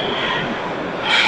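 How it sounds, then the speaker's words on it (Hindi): A Baku metro train gives a steady, close rushing rumble of wheels and car noise for about a second, with a faint high squeal rising near the end. "ये मेट्रो है भाई अजरबैजान की"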